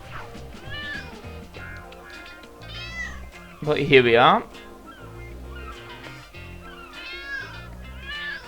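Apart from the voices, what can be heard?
cats meowing in the video game Lego City Undercover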